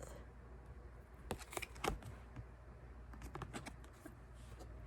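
A few soft bursts of tarot card shuffling riffle close by against a quiet, steady room hum, with brief pauses between them.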